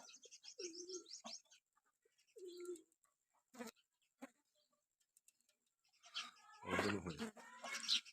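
Pigeons of a breeding stock cooing close by, several short low throaty coos with gaps between, then someone talks over the later part while birds chirp faintly.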